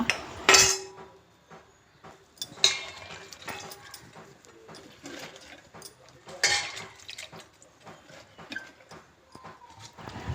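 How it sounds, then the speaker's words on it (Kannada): Soaked chillies being chopped by hand, irregular knocks and taps of a blade on a board with occasional louder clacks, close and busy, with no voices. "ಮೆಣಸು ನೆಂದಿದೆ, ಈಗ ಕಡಿಯುವ"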